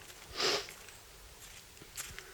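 A person sniffles once, close and short, and a faint second sniff follows, with quiet outdoor background between.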